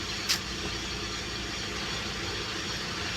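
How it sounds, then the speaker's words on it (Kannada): Behind a house, a tractor digs a well with a steady, droning mechanical roar that runs continuously at a distance, with one brief sharp click near the start. "ಹಿಂದ್ಗಡೆ ಬಾವಿ ತೋಡ್ತಾ ಇದ್ದಾರೆ ಅದು ಟ್ಯಾಕ್ಟ್ರಿಂದ ಇದನ್ನು ಹೊಡಿತಾ ಇದ್ದಾರೆ"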